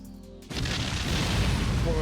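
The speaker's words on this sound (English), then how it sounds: "Suddenly there is an explosion." A sudden explosion bursts at an entrance in a visual novel game, opening with a sharp hit and then swelling into a loud, sustained rumble of smoke and dust that fills the rest of the moment.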